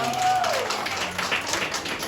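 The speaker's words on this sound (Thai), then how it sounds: "ขอเสียงปรบมือ ให้กับครูก้างครับ" A church audience applauds for Kru Kang at a testimony and special-song gathering; brief, dense clapping fills the room with a voice and a sliding tone over it.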